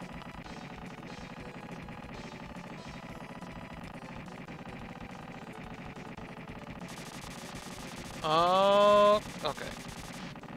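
Rapid gunfire from Gatling guns in a Super Nintendo video game, a dense ongoing rattle amid game music and effects, with a loud burst of tones near the end and a brief spoken reply.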